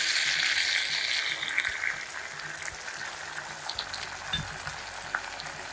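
Vinegar poured into a pan of frying tomatoes and golden-brown dried fish for sarciado daing, giving a steady bubbling sizzle with scattered pops and stirring taps, close and without talk.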